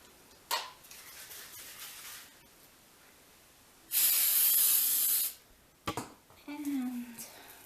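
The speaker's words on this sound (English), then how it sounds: "I just hit it with a little bit of my spray" A spray bottle gives one short, loud burst of hissing mist over shaped baguette dough, set between quieter kitchen handling sounds and a few clicks and taps.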